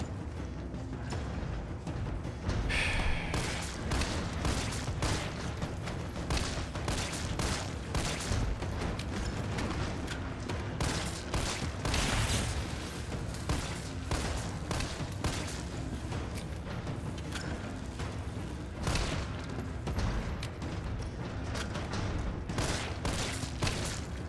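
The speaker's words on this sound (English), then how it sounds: "The zombies exploding." Zombies bursting apart in the Resident Evil 3 Remake video game: a dense, continuous barrage of loud booms, bangs and crackling blasts with mechanical clatter, sustained for the whole stretch without talk.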